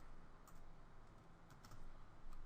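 Faint, quick clicking of keys on a computer keyboard with a few slightly sharper taps, continuing steadily in a quiet room.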